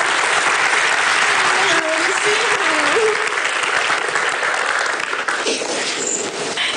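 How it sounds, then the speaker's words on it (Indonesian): Studio audience at an Indonesian television talk show breaks into sustained, loud applause that fills the whole stretch at steady strength, with a voice briefly speaking over the clapping. "Kita kasih tepuk tangan sekali lagi dong."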